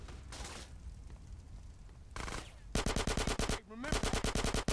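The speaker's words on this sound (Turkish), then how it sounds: "Kim atış ediyor ya?" Rapid automatic gunfire in the video game GTA San Andreas, two long bursts of loud, evenly spaced shots following earlier noisy blasts and rumble, with a voice speaking faintly underneath.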